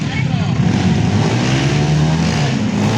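In a mud race, a loud engine drones and revs close by, holding a steady low growl throughout, with a commentator's voice talking over it.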